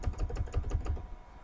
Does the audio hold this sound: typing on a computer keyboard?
yes